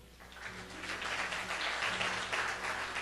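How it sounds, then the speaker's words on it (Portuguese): A church congregation claps during a sermon, the applause swelling from a quieter start into a steady, moderately distant wash of hands under a low organ or keyboard drone. "Você pode aplaudir o Senhor?"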